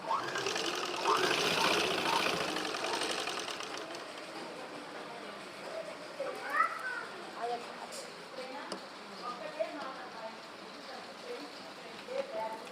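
A sewing machine stitches a small child's frock, running steadily and loudly for the first few seconds, then fading to lighter intermittent stitching and handling noises.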